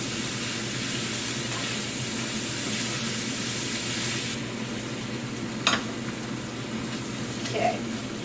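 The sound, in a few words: chicken stir fry sizzling while being stirred in pan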